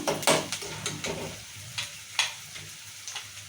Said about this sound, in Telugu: నూనెలో వేగితేనే అనమగడ్డ నూనెలో వేగితేనే వాసన అనేది ఉండదు